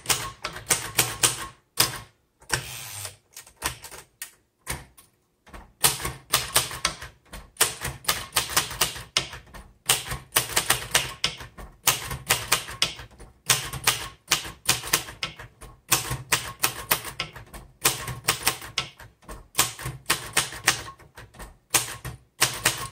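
Keys clack rapidly on a 1960s Royal Safari manual typewriter, crisp close strikes in uneven bursts with short pauses between words and occasional louder carriage or spacing thumps throughout.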